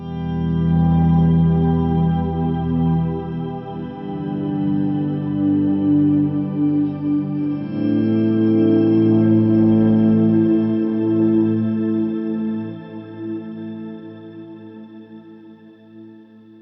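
Guitar run through a pedalboard with octave-up and octave-down effects, a thick shimmering sustained chord that swells, shifts once midway and slowly fades out, alone with no talking.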